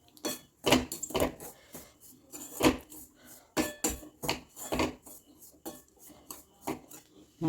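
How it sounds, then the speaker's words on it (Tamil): A spoon stirs a ragi flour mixture in a bowl, making a steady series of close, sharp clinks and scrapes against the bowl in an irregular rhythm, with no talking. "எல்லாம் நல்லா கலந்து விட்ருவோம்."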